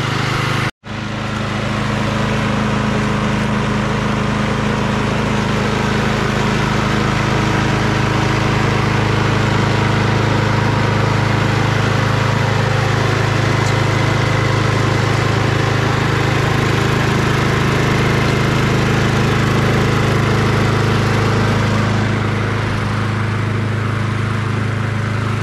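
A Troy-Bilt 21-inch XP self-propelled lawn mower, newly repaired after a sheared keyway, starts with a sharp catch and then runs steadily at a loud, close, even drone with no talking throughout.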